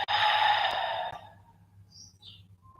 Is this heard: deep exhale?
yes